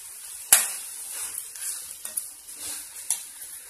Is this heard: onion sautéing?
yes